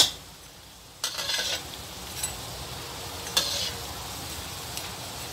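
Kue getas crackers fry in hot oil with a steady soft sizzle, broken by a few sharper bursts of crackling and scraping as they are moved about, close up, with no voices.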